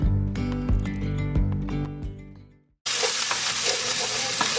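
Background music fades out, then meat returned to a pan of browned, softened vegetables fries with a dense, even sizzle that holds steady to the end.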